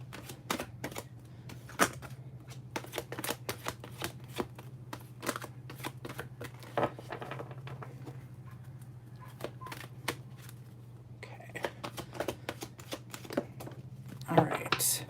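Tarot cards shuffled and handled in a steady series of sharp, papery clicks and riffles, close and fairly loud, over a constant low hum, with a person speaking at times.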